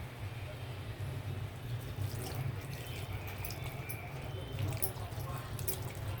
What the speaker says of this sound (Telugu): ఓకే, వాటర్ వేసేద్దాం ఇప్పుడు మనం.